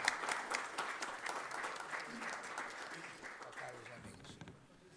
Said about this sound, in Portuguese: eu queria uma salva de palmas para a doutora